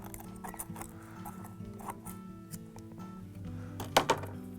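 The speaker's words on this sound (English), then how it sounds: "Cut it to size with a pair of scissors." Scissors snip a thin model railway ballast mat in a few quiet, separate cuts over a faint low hum, ending with two sharper snips close by.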